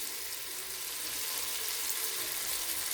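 Onions and garlic sizzling in melted butter in a pot, a steady, dense, close hiss of frying that holds evenly throughout without pauses.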